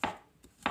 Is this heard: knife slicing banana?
yes